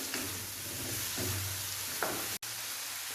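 Potato and cauliflower sauté in a pan with dry coriander powder for aloo gobi, giving a steady close sizzle with a low hum and a few soft stirring scrapes and knocks, no talk.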